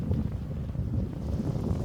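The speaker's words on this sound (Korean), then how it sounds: "마침 시원한 바람이 불어와 땀을 식혀주네요" Wind gusting across a dirt hiking trail on a mountainside near Seoul, a steady low rumbling buffet against the microphone that swells and eases without pause, with no voices present.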